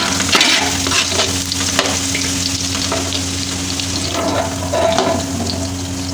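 Onions sizzle and fry steadily in a pot while cooking Kabuli pulao, a dense continuous crackle with occasional stirring scrapes, loud and close with no voices.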